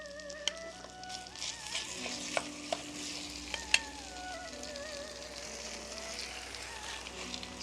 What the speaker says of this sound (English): I love this noise. Means that it is cooking. Sizzling noise.